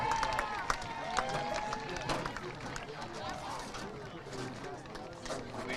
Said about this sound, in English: let's give everybody one more big round of applause